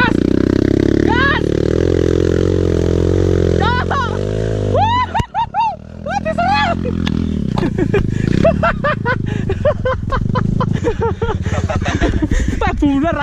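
A motorcycle is ridden and accelerated on a rural ride near Blitar, its engine droning loudly and steadily with rising revs under wind noise, while riders chatter and call out over it.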